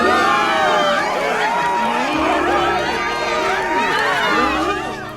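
A crowd of townsfolk in the video game Zelda: Tears of the Kingdom reacts with dense, continuous cheering and clamor, loud and sustained throughout with many overlapping voices.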